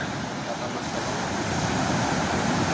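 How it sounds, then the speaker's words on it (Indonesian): Ocean waves at a beach campsite surge and wash in a steady, broad roar, with wind buffeting the microphone throughout and no voices. "Tuh ombaknya lihat tuh."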